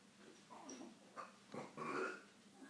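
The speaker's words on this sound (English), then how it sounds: "Oh my goodness, we got a belching dog over" A dog belching indoors, several short low burps in a row, faint against a quiet room with no speech.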